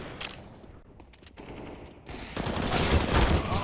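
Rapid automatic gunfire from a CS:GO professional match, Berzerk vs GTZ Bulls at HCG Masters, with scattered shots early and then a dense, loud, sustained burst of overlapping fire in the second half.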